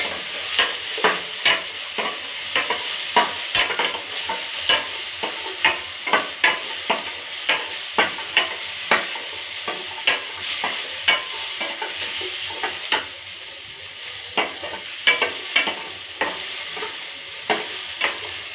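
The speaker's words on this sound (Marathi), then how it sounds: "थोडेसे काजू ग्रेव्हीसाठी, आलं लसूण असं छान असं भाजून घेऊया" Cashews, ginger and garlic roast in a pan, a steady low sizzle punctuated by regular scraping strokes of a spatula stirring the pan, with no one speaking.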